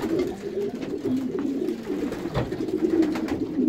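Racing pigeons in a loft coo softly and repeatedly, a steady, low, throaty burble from several birds nearby with no talk over it.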